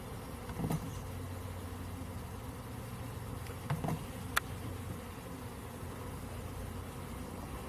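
A swarm of bees buzzes steadily outdoors around a tree branch, a low continuous drone at moderate level with a few brief knocks and handling noises over it.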